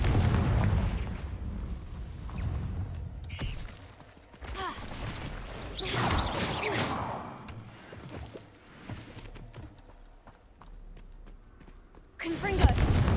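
Confringo fire spell explosions in Hogwarts Legacy, with booming blasts and crackling bursts recurring across the scene, a sharp loud burst near the end, mixed with other game sounds and a voice.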